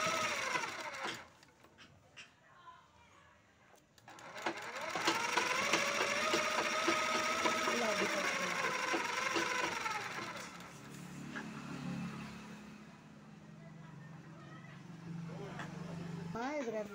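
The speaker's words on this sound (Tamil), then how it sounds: "ரெட்டையாக மடித்து வச்சு தச்சுக்கிட்டேன்." An electric sewing machine stitching folded, doubled blouse fabric: a fast, even whirring run of stitches lasting several seconds, starting and stopping, with someone speaking over and between the bursts.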